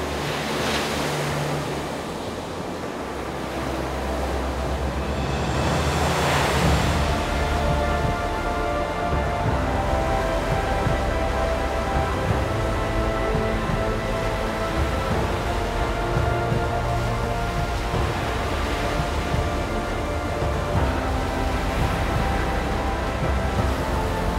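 Ocean surf pounds a beach where rowers push their boats out through the second line of breakers, with waves crashing and washing continuously at close range, mixed with wind buffeting the microphone.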